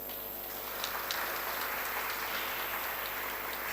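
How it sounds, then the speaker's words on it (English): Conference audience applauding at a national media and journalism event, a steady dense patter of many hands clapping, heard from a distance throughout with no talking. "So if you would like to give me an applause,"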